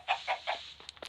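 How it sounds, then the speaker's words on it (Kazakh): Chickens in the Minecraft video game give a few short clucks in quick succession, close and fairly quiet, followed by soft, brief pecking sounds. "Тауықтар шыққан сияқты дәл таптым"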